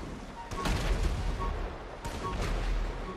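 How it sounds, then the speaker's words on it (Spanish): Tank cannon blasts in GTA V Online, two heavy booming shots about a second and a half apart, each a broad burst with a rumbling tail over continuous game noise. "Yo estoy aquí pegando cañonazo"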